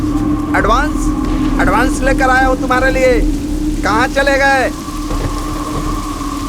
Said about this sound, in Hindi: अरे रे, इतनी बारिश क्यों हो रही है?